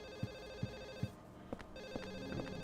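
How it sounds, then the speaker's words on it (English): A telephone rings over and over inside a video game, short bursts of bell repeating at a steady pace with a constant tonal hum behind them, moderately loud and alone. "a phone will ring out without end until you find its source"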